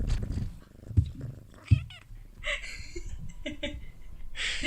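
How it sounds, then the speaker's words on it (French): A cat meows several times in short, drawn-out cries, close by, with a bit of low rumbling and faint background voices between calls. "Est-ce que j'ai le droit d'avoir le chat qui miaule?"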